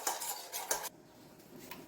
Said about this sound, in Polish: wszystko mieszamy do uzyskania jednolitej masy.